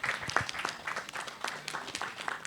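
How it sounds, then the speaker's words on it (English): Crowd applause at a summit event in Lagos, a short burst of scattered, somewhat quiet clapping with uneven claps. "we need you guys to give a huge round of applause for the Accelerate Summer 7"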